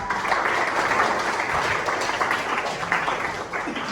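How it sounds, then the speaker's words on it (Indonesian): Classroom audience applauding a student, a steady dense wash of many hands clapping for about four seconds, moderately loud and close, with no clear speech over it. "Tepuk tangan buat Bagas"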